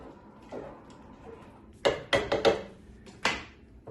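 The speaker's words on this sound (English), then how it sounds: "We'll give this a stir." A spoon knocks and scrapes around a pot of ramen, giving a few sharp, close clacks in a quick irregular cluster against quiet background.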